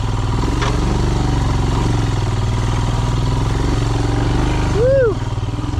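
A Royal Enfield Himalayan motorcycle rides a Montana singletrack trail, its single-cylinder engine a loud, continuous, close thrum that swells briefly near the end.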